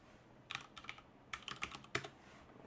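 Someone types a password on a computer keyboard in close, quick bursts of clicky keystrokes with short pauses between groups, alone over a low room hum.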